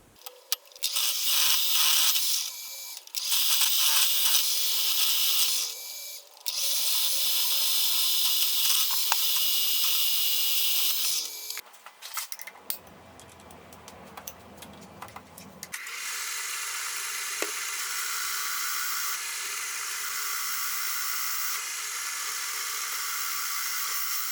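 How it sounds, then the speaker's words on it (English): Metal being bored with a boring head on a lathe: a loud, steady high-pitched grinding hum with a brief pause and clunks midway, then continuing at a slightly lower level. "I'll now switch over to the boring head and then I'll take it to just over 35mm"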